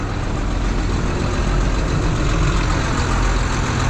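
John Deere 7920 tractor engine running steadily under heavy load while driving a Moore's 12-inch irrigation pump, a loud continuous low diesel drone with no pauses and no talking.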